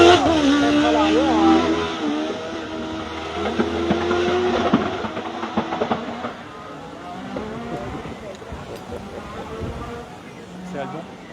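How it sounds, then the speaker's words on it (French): A Renault 5 Turbo-engined race car passes loudly at a hill climb, its engine note swelling and fading with crackles, while spectators talk nearby in French throughout. "Moteur de R5 Turbo qui passe à l'instant là devant nous."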